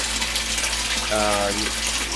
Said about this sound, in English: So it's very good at aerating the water coming into the tank.